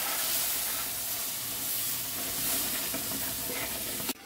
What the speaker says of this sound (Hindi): थोड़ा थोड़ा करके दूध डालेंगे।